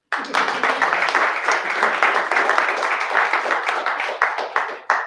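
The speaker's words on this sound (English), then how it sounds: "Applause again." Applause from an audience at a startup pitch competition, a steady wash of many hands clapping that continues for about five seconds and stops abruptly at the end.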